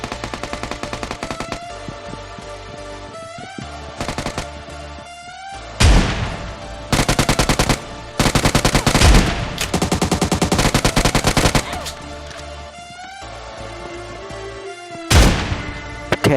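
Gunfire in the video game PUBG Mobile, shotgun and UMP, sounds in repeated loud close bursts of rapid automatic shots separated by short pauses, with several heavy single blasts mixed in.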